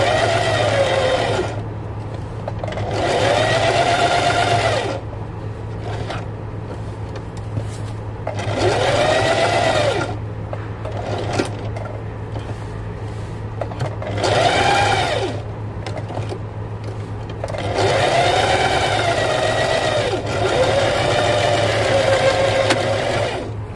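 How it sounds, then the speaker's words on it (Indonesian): A sewing machine stitches a mermaid-style skirt in several bursts of steady running, each lasting a few seconds and separated by short pauses, loud and close with no talking. "Nah, caranya jahit seperti ini."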